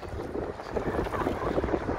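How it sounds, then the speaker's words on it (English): Gusty wind in downtown Chicago buffets the microphone in uneven rushes, a rough low rumble with no voices. "Now it's getting real windy"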